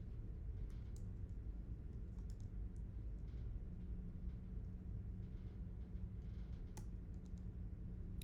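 Quiet typing on a computer keyboard, scattered soft key clicks over a low room rumble, faint and without speech.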